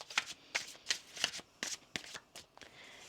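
Tarot cards riffle and snap in a quick series of crisp, papery bursts, about eight shuffles in a row, close and clear with no talking.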